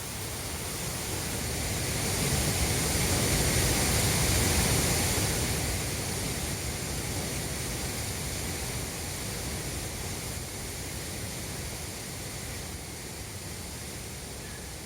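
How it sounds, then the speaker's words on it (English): A waterfall in Uganda roars as a steady, broad rush of falling water, swelling slightly early on and then holding constant without pause. "These waterfalls provide a good visual aid to the power of water"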